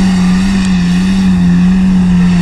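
Car with a 1.9 L engine of roughly 100 to 120 horsepower at full throttle in low first gear with the differential locked: a very loud, close, continuous engine drone holding a steady pitch throughout.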